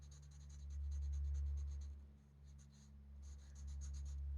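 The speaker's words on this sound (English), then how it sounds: "Guess I'll color this blue too." A colored pencil, likely an Arteza in denim blue, scratches across paper in quick back-and-forth strokes with short pauses, faint and close over a low hum and with no speech.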